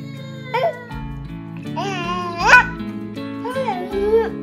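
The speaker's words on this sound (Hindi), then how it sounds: "बिल्ली की आवाज निकालो।" Several short, rising cat meows played by a smart speaker, clear and close, one after another with brief gaps, over a steady electronic hum.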